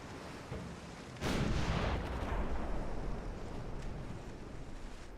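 Naval gunfire in Ultimate Admiral Dreadnoughts, a sudden heavy blast that swells into a long rumbling roar before fading slowly under ocean and wind ambience.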